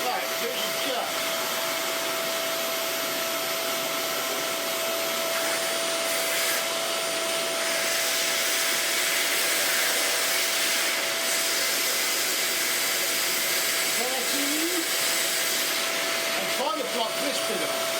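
Dyson UP22 upright vacuum cleaner running in a steady, loud drone with a constant whine throughout and slight shifts in tone.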